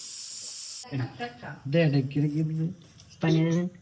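A pressure cooker whistle hisses loudly for almost a second at the start, then voices take over with steady conversation.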